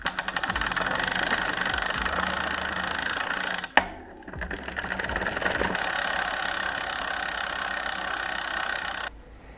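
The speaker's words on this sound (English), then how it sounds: "So I'm gonna let you listen to the Freehub here. It sounds pretty good, but quite dry." A road bike freehub ticking as the wheel spins freely, a fast even ratcheting buzz that stops abruptly midway, then resumes and runs steadily before cutting off near the end, close and loud.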